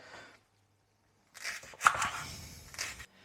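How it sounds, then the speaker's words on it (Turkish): A few knife chops through leeks on a board, short bursts with brief pauses between them, close and fairly loud, the pieces dropped straight into a pot. "Şimdi bunları kestikçe böyle keserek, keserek tenceremize direkt yerleştireceğiz"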